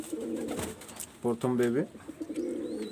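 Pigeons cooing at a home loft, soft repeated coos heard close up alongside someone talking.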